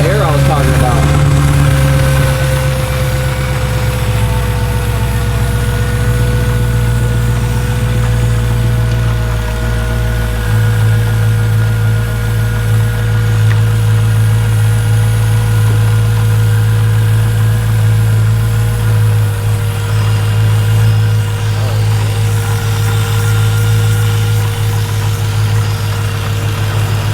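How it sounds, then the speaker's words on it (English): Idling Dodge Hellcat V8 with a leaking supercharger gasket, a loud, steady, deep engine rumble with a faint hissing air tone running continuously close to the microphone. "Supercharger is leaking. Yeah, that's that air I was talking about."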